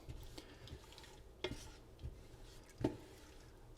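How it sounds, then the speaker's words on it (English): A utensil stirring and scraping the bottom of a pot while deglazing chana masala, giving quiet wet scrapes and a few sharper knocks under a faint simmer, close and low in level. "So just scrape anything from the bottom, just deglaze the bottom"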